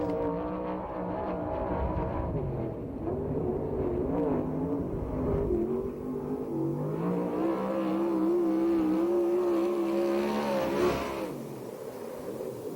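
USAC/CRA sprint cars race at Perris, California, one engine roaring loud and steady with rising and falling revs as it laps the dirt track, held up close throughout.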